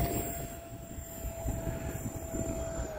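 E-flite A-10 Thunderbolt II RC jet with twin 64mm electric ducted fans, taking off from grass, gives a steady whining fan drone with a constant high tone, held at an even level throughout.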